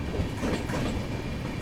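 Jammu Mail train pulling out of Vijaypur, Jammu, a steady close rumble of moving carriages with faint rhythmic wheel clatter.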